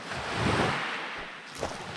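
Surf washing onto a Crimean shore near Kapsikhor, a soft swell of breaking waves with wind buffeting the microphone, rising and fading once over a short span, no voices.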